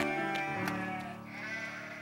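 A sheep bleats in a cartoon Bible story, several wavering nasal calls in quick succession set over soft background music, with no talk.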